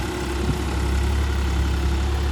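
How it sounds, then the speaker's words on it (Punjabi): A New Holland 3630 Special Edition tractor engine runs at a steady idle, giving a constant low rumble with a mild mechanical drone. It is fairly close and heard on its own. "ਬਹੁਤ ਸਾਇਲੈਂਟ ਟਰੈਕਟਰ ਚੱਲਦਾ ਆ"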